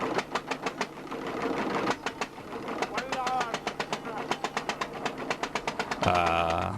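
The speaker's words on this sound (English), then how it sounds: "That is, if the ancient and sputtering little motor kicks in." An ancient, sputtering little boat motor on the Ganges chugs in rapid, uneven pulses close by, with a voice talking over it and the engine note changing near the end.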